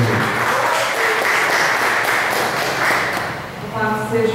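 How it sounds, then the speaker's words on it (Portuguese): A church congregation claps for Jesus in a loud, continuous burst of applause that fades slightly near the end as a voice begins to speak. "E as palmas para o Senhor Jesus"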